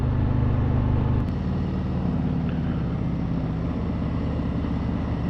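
A Harley-Davidson Road King Special motorcycle rumbles along on a demo ride, its low steady engine drone and road noise continuous and fairly close, with no talk.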